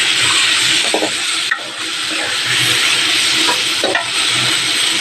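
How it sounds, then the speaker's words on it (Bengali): Potatoes and stems sauté in a pan with ground spices, including Kashmiri red chili powder, giving a loud, continuous sizzle broken by a few sharp spatula scrapes and stirring clacks, with no talking. "এবার একটু ভালো করে কষিয়ে নেবো"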